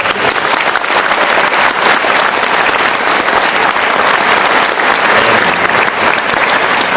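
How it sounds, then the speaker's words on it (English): Loud, full audience applause for concert band students at a school band event, continuous heavy clapping from a large crowd that holds steady throughout. "Give them a round of applause."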